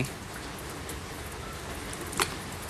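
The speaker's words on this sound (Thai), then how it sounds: "ฝนเริ่มมาแล้วฝนเริ่มแรงแล้ว" Rain pours down in a constant close wash while pet frogs are brought out to play in it, with one brief sharper spatter near the end and no voices.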